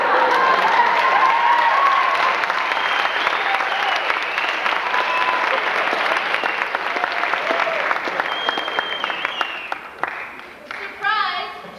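Audience applause and crowd noise in a theatre-style room, loud and continuous at first, then gradually tapering off, with a voice briefly emerging at the end.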